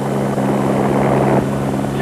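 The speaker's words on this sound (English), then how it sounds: "Some a little frightened by the helicopter." A helicopter passes overhead during the Dakar 2000 rally, its loud, steady rotor and engine drone filling the whole moment without a break.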